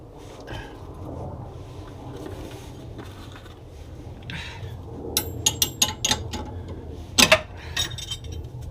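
Ratchet clicking in a quick burst of sharp metallic ticks while loosening a bolt on a car's front suspension, near and clear over low garage hum, with a louder clink near the end.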